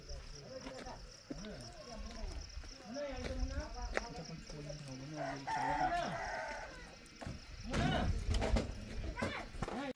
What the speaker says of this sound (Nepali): घर कुखुरा कराइरहेछ